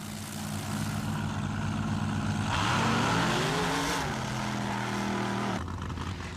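Two altered-chassis mud racing cars, a Pontiac and a Chevrolet of about 1,500 horsepower, roar loudly and steadily, with the engine pitch rising and falling as one passes close by during a 1996 mud race in Lima, Ohio.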